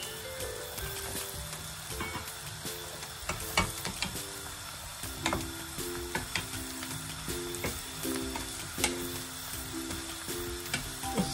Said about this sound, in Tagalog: i-add na po natin yung ating sliced mushroom